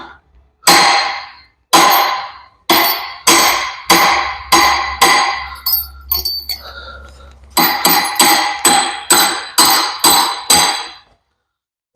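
Metal-on-metal hammer blows on a hydraulic cylinder gland ring out loud and close, struck in a steady series with a short pause midway before the rhythmic strikes resume.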